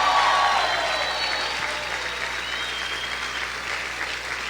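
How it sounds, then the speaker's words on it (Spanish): A church congregation claps and cheers loudly during a sermon, a dense, sustained wash of applause filling the room with a few shouts above it, fading slightly toward the end. "¿Cuántos pueden gritar y aplaudir fuerte al Señor?"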